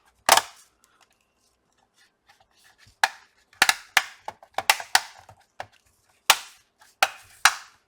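Dell Inspiron N7010 laptop cover being snapped into place: a quick series of sharp plastic clicks and taps, close and distinct, spaced irregularly with short gaps and no talking.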